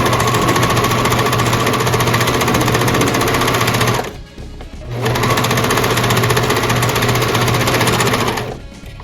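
Serger overlock sewing machine stitching fabric, a loud, steady high-speed whirring hum in two long bursts separated by a brief pause near the middle, with no talking.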